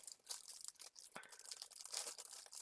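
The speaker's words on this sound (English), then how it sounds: "Also in a little plastic bag." A small plastic bag holding a Dragon hot end for a 3D printer crinkles and rustles close by during unboxing, a busy run of crackly handling sounds with brief pauses and no talking.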